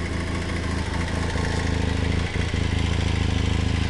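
A Yamaha XTZ750 motorcycle engine idles on choke, a steady, even rumble with a fast regular beat throughout and a slight dip midway, close and loud with no talking.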